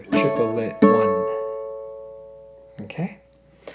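Strummed ukulele in a country riff, with a quick triplet strum flurry and then a ringing chord left to decay, followed by a couple of short muted hits near the end; played close with no talking.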